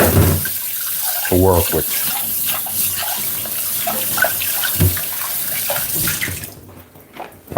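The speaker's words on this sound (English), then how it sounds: "I can rinse that bowl out" Tap water runs steadily into a sink while a bowl is rinsed in a kitchen, a continuous splashing wash under a person talking, fading out near the end.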